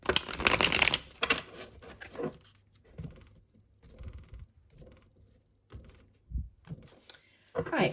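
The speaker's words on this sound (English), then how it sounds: "Okay, one last shuffle." Tarot cards are shuffled by hand, with a loud riffling burst at the start and again at the end and softer rustles and taps in between.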